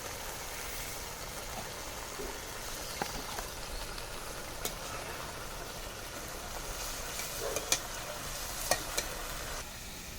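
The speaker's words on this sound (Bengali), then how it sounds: "দেখুন এবার মাছগুলো ভালো করে কষিয়ে নিচ্ছে" Fish pieces sautéing in a pan, a steady even sizzle running throughout with a few faint clicks and scrapes, no voices.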